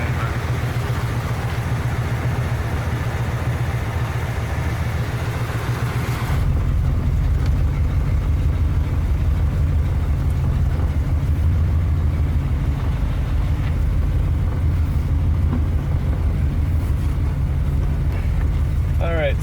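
A 1972 Corvette engine idles steadily just after its first start, a continuous low rumble that grows slightly louder partway through and holds close and even, with faint background sounds.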